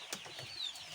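Local chickens on a poultry farm give a few faint, short clucks and calls over a quiet background.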